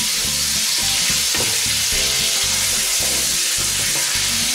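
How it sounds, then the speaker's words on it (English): Meat browns in a hot pan for Lancashire hotpot, giving a loud, steady frying sizzle with occasional stirring scrapes. The sound runs continuously with no one talking. "Like I do with a lot of my meat, I brown it off. I want it really nice and browned off"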